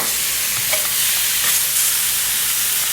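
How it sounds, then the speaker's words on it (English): Steaks sizzle loudly in a hot pan with a constant broad hiss, and a few faint scrapes and shifts suggest the meat being turned over. No voices are heard. "Okay, we're going to turn our steaks over now."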